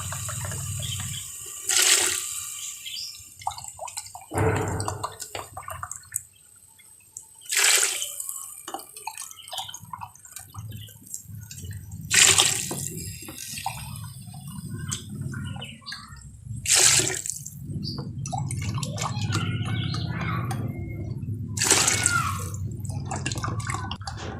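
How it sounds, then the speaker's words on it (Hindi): Glasses of water poured into a pot of sautéed vegetables for vegetable rice, heard as several separate close splashing pours spaced a few seconds apart over a low kitchen background. "अब इसमें हम 8 गिलास पानी डाल देंगे।"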